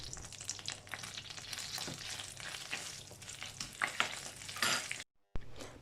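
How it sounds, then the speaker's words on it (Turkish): Tomato paste and dried mint sizzle steadily in hot oil in a pan as they are stirred and fried for soup, a constant close crackle that cuts out briefly near the end. "çok az salça ve kuru nane ekleyip yağımızı kavuralım"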